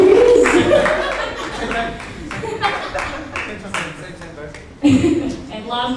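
Audience applause and cheering for a krump dancer at a history and culture panel, scattered claps under a speaking voice, with a louder burst of clapping near the end.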